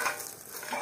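Water bubbling steadily in a pot on the stove while cooking vegetable biryani, a continuous close rolling boil with a soft hiss and no talk.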